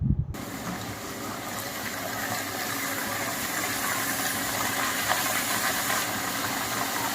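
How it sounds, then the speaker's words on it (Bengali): Chopped ash gourd for a shrimp chhenchki is poured into a hot pan with fried spices, setting off a sudden sizzle that settles into a constant, even hiss close by. "আমি চাল কুমড়োটা কোড়ার মধ্যে ঢেলে দিচ্ছি"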